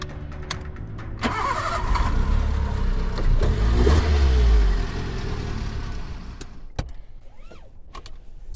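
A Toyota Yaris Mk1 small petrol engine cranks and catches, with a low rumbling start surge that settles after a few seconds into a quieter idle inside the car, plus a few faint clicks.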